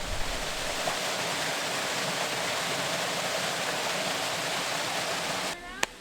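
A forest stream in rural Haiti rushes with a steady, full broadband wash of flowing water that holds constant for several seconds, then briefly drops away near the end.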